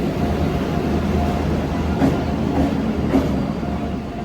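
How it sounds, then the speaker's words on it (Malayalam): A train heading to Ernakulam rumbles steadily from inside the carriage, a continuous low drone with a few faint, spaced clacks from the wheels. "ഇപ്പോൾ കയറിയതേ ഉള്ളൂ, ട്രെയിൻ കയറിയതേ ഉള്ളൂ"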